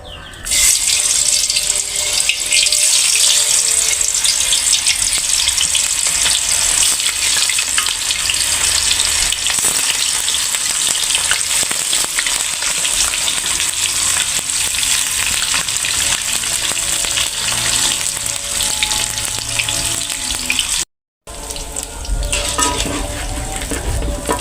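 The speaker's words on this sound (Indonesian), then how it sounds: "Kita goreng tahu dulu." Tofu frying in a pan gives off a loud, steady sizzle that runs without a break for the whole stretch, apart from one brief cut near the end; no voices are heard.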